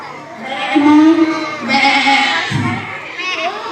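A child imitates a goat, giving a long wavering bleat that rises and falls, loud and close over background chatter.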